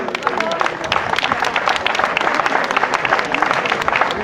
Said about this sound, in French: Je pense qu'on peut les applaudir, ils ont fait une belle course.